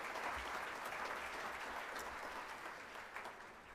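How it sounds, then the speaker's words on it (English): A breakfast-event audience applauds in a dense, continuous wash of clapping heard from a little distance, holding steady and then tapering slightly toward the end. "Give yourselves a round of applause"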